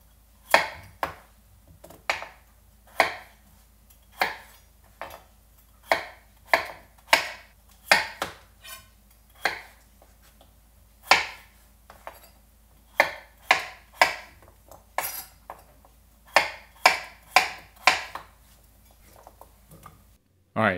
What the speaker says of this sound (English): Now all we do is just cut this into about 1/8 or 1/6 depending on how big the potatoes are.